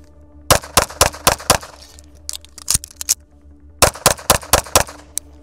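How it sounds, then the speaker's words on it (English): An Atlas EOS pistol fires a rapid string of five sharp shots, a brief pause with a couple of isolated cracks, then another quick string of five, loud and close on a range. "string 3 is 5 rounds, reload, and another 5 rounds."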